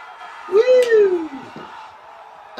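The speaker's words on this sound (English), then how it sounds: "Having the different noises, the crowd adds that bit of variety to it, adds to the atmosphere." Crowd cheering in a golf video game at TPC Scottsdale, a short burst of whoops and a rising yell from spectators, loud and close, fading to murmur before another swell at the end.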